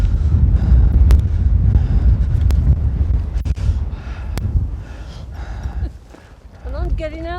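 Strong wind buffets the microphone on the breezy summit of Cley Hill in the Wiltshire countryside, a loud, rumbling gusty roar with a voice faintly audible underneath toward the end.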